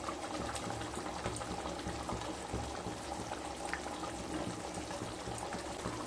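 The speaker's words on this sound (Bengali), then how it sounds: "তরকারিটা ফুটে গেছে।" A pan of katla fish curry with coconut milk bubbles on the stove, giving a dense, even simmering crackle and hiss that runs steadily throughout with no voices over it.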